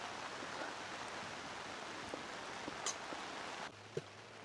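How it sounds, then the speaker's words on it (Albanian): Rain and hail fall outside as a steady, faint hiss of rainfall, with a couple of sharper isolated ticks and a low hum entering near the end, distant and without voices. "jashtë po bëhet kiameti, po bie shi e breshër"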